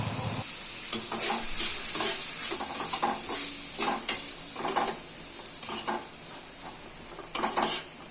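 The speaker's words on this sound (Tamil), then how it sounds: "கேரட், பீன்ஸ்லாம் பாதி அளவு வெந்ததுக்கப்புறம் இந்த மசாலாவை இதோடு சேர்த்துக்கிறேன்." Carrots and beans sizzle with added masala in a pan for semiya kichadi while a spoon stirs, scraping repeatedly against the metal over a steady frying hiss, close up with no talk.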